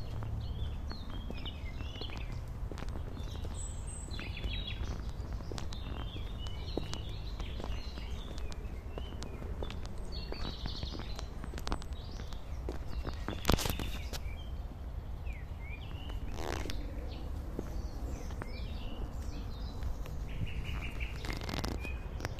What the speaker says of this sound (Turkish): Kuş sesleri cıvıl cıvıl.